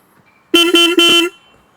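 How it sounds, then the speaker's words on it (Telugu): Horn of a 2024 Royal Enfield Classic 350 motorcycle, sounded in three quick loud honks in a row, close up, with no talk over it. "అండ్ హార్న్ ఒకసారి చెక్ చేద్దాం."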